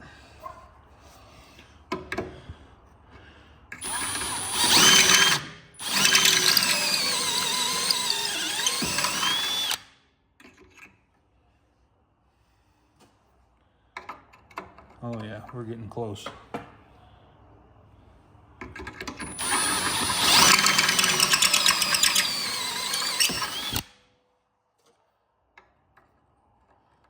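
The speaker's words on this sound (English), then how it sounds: "That's as big as the step drill will go." Two long bursts of a power drill with a step bit whining through metal on a commercial mower blade brake, loud and close, with quieter clicks and handling noises between them and a brief spoken remark.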